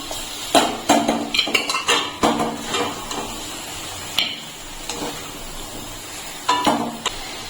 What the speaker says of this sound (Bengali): এখন আমি মাংসটাকে তুলে নিয়ে প্রেসার কুকারে দিয়ে দিচ্ছি